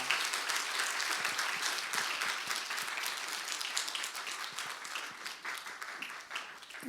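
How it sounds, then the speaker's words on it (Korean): A church congregation claps steadily for several seconds before a testimony, a dense, even patter of many hands filling a moderately sized room, heard alone without voices. "박수 한번 부탁합니다."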